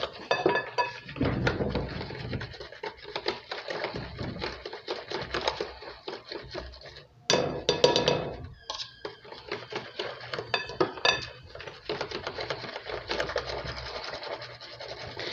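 Whisking vanilla custard, hot milk poured in a thin stream over egg while a whisk keeps scraping and clinking against a metal pot; steady rapid clatter with brief pauses, close and fairly loud, no talking.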